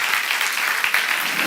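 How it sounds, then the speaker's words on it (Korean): Congregation clapping in a church during a sermon, a brisk, dense burst of applause with sharp individual claps, close and continuous. "박수 하나 둘씩"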